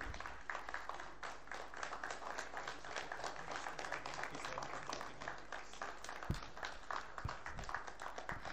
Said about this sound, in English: A huge round of applause for the opening